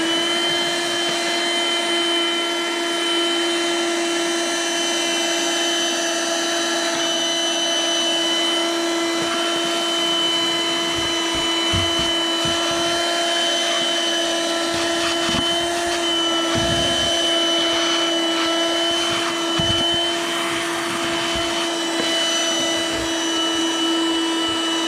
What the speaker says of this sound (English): I'm going to go take the vacuum cleaner here, the dust buster, and sort of clean some stuff up